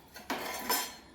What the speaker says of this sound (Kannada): ಈ ಪಾತ್ರೆಯನ್ನು ನಾನು ತಣ್ಣಗಾಗಲಿ ಇಲ್ಲಿ ಇಡ್ತೇನೆ